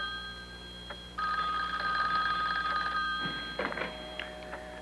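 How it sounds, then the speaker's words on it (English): Landline telephone bell ringing inside a house, loud and near, a long trilling ring followed by shorter bursts with some clattering room sounds. "Their phone began to mysteriously ring."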